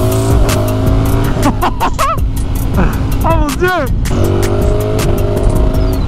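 A motorcycle races in a video game with a constant loud engine drone, sweeping whines and tire squeals. A man briefly exclaims over the noise.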